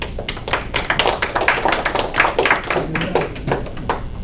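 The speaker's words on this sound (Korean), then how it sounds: "여러분 박수로 환영해 주십시오" An audience at a forum lecture claps to welcome an introduced guest: dense, close applause from many hands that holds steady for several seconds.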